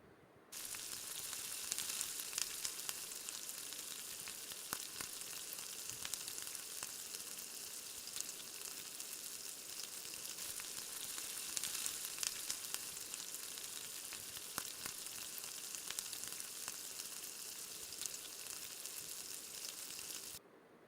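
Chicken pieces and tomato are stirred in a frying pan for a restaurant-style chicken gravy, making a continuous, even sizzle with soft, intermittent scraping from the stirring, close but fairly quiet.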